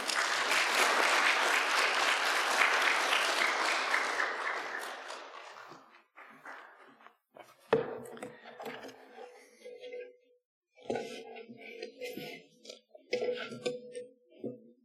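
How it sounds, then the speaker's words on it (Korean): A church congregation breaks into steady, loud applause to welcome a visiting missionary to the pulpit. The clapping lasts about six seconds and then fades into scattered footsteps, shuffling and quiet room noise. "우리 선교사님 나오실 때 우리 박수로 환영하도록 하겠습니다."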